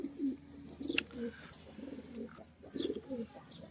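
Pigeons coo softly in a few low, throaty bursts, with faint chirps and rustling around them in a quiet setting.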